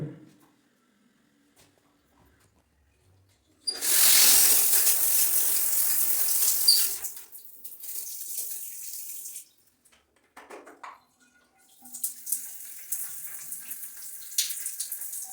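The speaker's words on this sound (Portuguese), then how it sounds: "Chuveiro elétrico aquecendo normalmente." Water from an electric shower in an apartment bathroom stall gushes on suddenly as a loud hiss, runs for a few seconds, then continues in softer, intermittent bursts.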